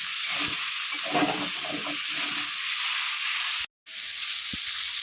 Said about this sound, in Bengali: বন্ধুরা থোর ভাজা আমার হয়ে গেছে এবার আমি নামিয়ে নেব